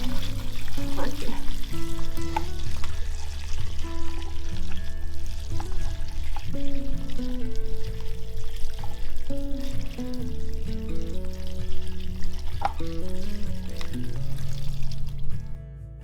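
Water pours steadily from a hose or container onto hay bedding in a bucket for horses, a continuous close splashing and gurgling rush with shifting tone, ending abruptly.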